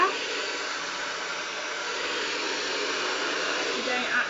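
Hair dryer blowing steadily on really wet hair during a blow-dry, a continuous loud airy whoosh with a slight flutter, running unbroken and alone with no talking.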